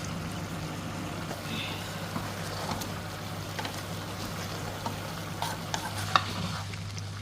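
Meat for palak gosht fries in a pan with garam masala, crushed black pepper and kasuri methi, giving a soft continuous sizzle with scattered scraping stirs over a low steady hum.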